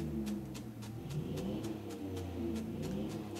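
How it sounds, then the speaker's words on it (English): A motorcycle engine revs nearby with a steady low rumble and a regular pulsing beat, running continuously with no voices over it. "somebody's revving up their motorcycle"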